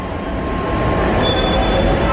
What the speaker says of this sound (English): Guys, the train's coming.